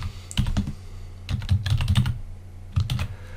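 Typing on a computer keyboard while working in a spreadsheet: close, crisp clusters of keystrokes in three short bursts with brief pauses between, with no talking.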